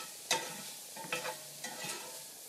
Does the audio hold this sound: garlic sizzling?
yes